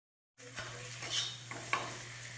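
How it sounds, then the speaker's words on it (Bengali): Potatoes being sautéed with a green spice paste in a pan for green aloo dum: a soft steady sizzle with a couple of spoon-on-pan scrapes and knocks, close and fairly quiet, no talking. "আলু দিয়েও মশলাটা ভালো করে কষিয়ে দেব"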